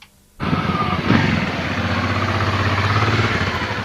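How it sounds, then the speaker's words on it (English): A Honda Transalp 600 motorcycle at a rally starts up after a brief quiet moment and settles into a steady, loud, close engine drone with a faint pulsing beat. "Richard Hallett was riding a Honda Transalp 600"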